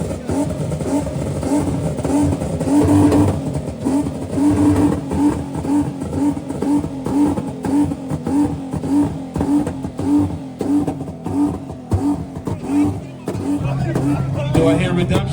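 A German car revs and accelerates hard at a Tokyo car meet, with a loud, throbbing engine note pulsing steadily throughout while crowd voices mix underneath.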